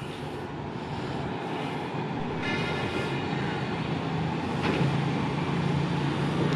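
Ultraman-liveried train, procession 31 on the Thaksinarath service heading toward Bang Sue, rumbles past on the rails with a steady loud rolling roar and wheel noise throughout, a brief squeal partway through and no talking.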